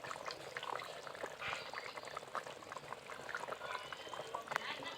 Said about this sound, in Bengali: মাছ দেওয়ার পর তরকারি কিন্তু ফুটে উঠেছে।